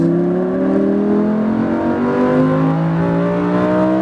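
A Lamborghini Huracan accelerates hard on a track, the engine note rising steadily in pitch as revs climb, loud and heard from inside the car.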